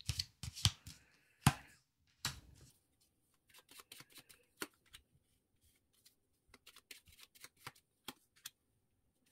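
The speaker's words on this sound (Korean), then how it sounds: "초아 카드 뽑아보겠습니다." Tarot cards shuffled and drawn, a quick burst of riffling flicks up front, then scattered soft snaps and slides as single cards are pulled and laid down, close and dry with no talk.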